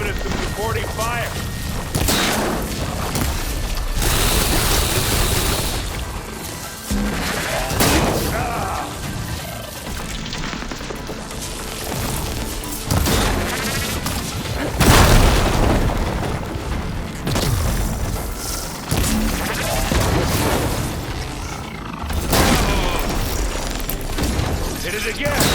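Gunfire and explosions from a firefight in the video game Horizon Forbidden West, with dense, continuous booms and blasts running throughout, loud and close, mixed with in-game talk.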